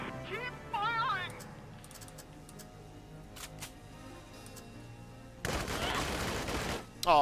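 Gunfire in the Valkyria Chronicles 4 video game comes as a sharp, sustained burst of shots late on, after scattered quieter clicks and effects, with game sounds and some talk in the background.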